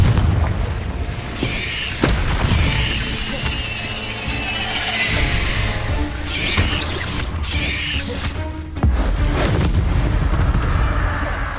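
Confringo explosion spell going off during combat in the video game Hogwarts Legacy, with repeated booming blasts and mechanical clatter over loud, continuous game noise and no talking.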